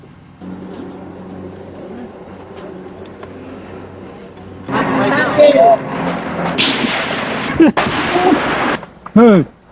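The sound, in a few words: gunfire during combat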